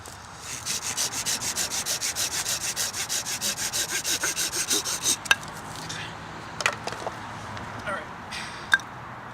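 An AA Forge Kephart knife saws and trims through wood in a quick, steady run of close, rasping back-and-forth strokes, which then give way to a few sharp, isolated cuts and knocks.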